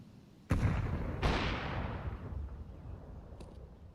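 A grenade goes off in an online first-person shooter with a sudden loud blast, a second boom right after, and a long rumbling decay, while faint game ambience continues underneath.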